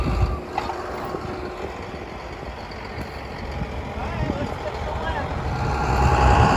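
An old field cultivator, running for the first time in years, churns the ground with a low rumbling machine drone that builds toward the end, while a person talks over it.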